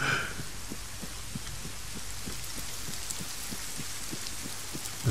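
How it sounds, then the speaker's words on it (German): Rain begins falling in the video game Arma 3, a steady close hiss of drops running throughout, with a regular low thumping pulse beneath it. "Es fängt auch noch an zu regnen."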